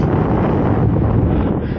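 Wind buffeting the microphone on a road bike ride, a loud, steady low roar filling the whole moment with no break.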